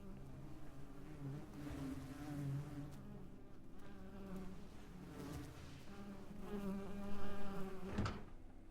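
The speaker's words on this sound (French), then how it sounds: "Pourquoi il y a des mouches?" Flies buzzing close by in a dark space, with a steady droning hum that swells and wavers over several seconds, rising louder near the end.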